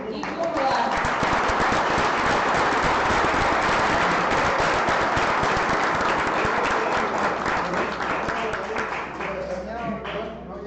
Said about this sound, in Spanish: un aplauso grande para ustedes